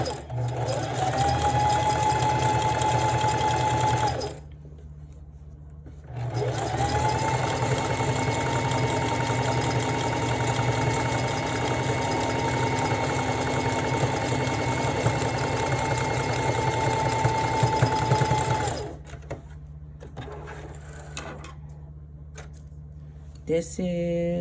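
A sewing machine runs a straight stitch along folded fabric for a one-piece garment, a steady close mechanical whir in two long bursts of several seconds each, separated by short pauses.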